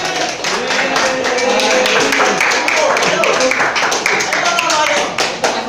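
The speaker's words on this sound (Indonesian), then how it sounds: "Sebelumnya kasih tepuk tangan dulu." Audience applause at an Indonesian lecture on transportation management science, loud, sustained clapping with scattered sharp taps throughout, mixed with voices talking underneath.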